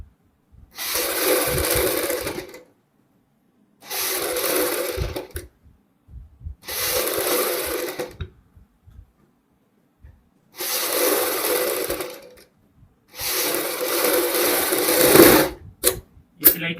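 An electric sewing machine stitches piping around a kurti neckline in five bursts of rapid, buzzing whir, each a couple of seconds long, separated by brief pauses, with soft handling noises between runs.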